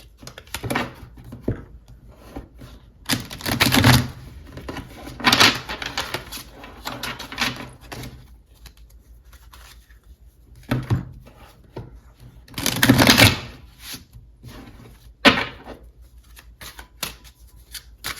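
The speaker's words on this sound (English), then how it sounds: "Let me give these a quick shuffle." Tarot cards being shuffled in several short, crisp bursts of riffling and tapping, separated by quiet pauses.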